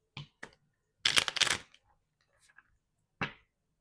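Tarot cards shuffled by hand in brief bursts: a couple of quick riffles, a longer rustling shuffle in the middle, then a final snap of cards, with quiet gaps between and no voice.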